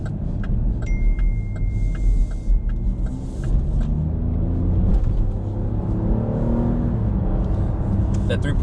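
A 2021 Chevy Blazer RS with a 3.6-liter V6 and nine-speed transmission accelerates, its steady low engine rumble heard from inside the cabin, with light rattles over the drone.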